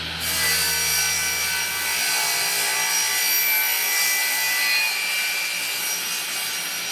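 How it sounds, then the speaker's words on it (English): A table saw makes its first cut through a woodworking crosscut sled, a steady loud whirring rasp of blade through wood that holds continuously without pause. "I'm going to do a first initial cut without any scrap pieces of wood or anything, just to get the kerf of the blade into the sled."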